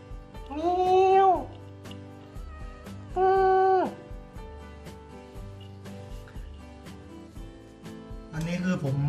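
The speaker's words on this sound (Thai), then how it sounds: "แมว" A cat meows twice, clear and close, with rising and falling pitch, over music playing in the background and a brief rustle at the end.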